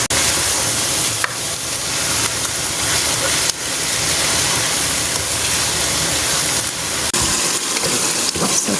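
Gongura leaves sizzle steadily in a hot pan with garlic, a loud continuous frying hiss with a few stirring clatters, no voices.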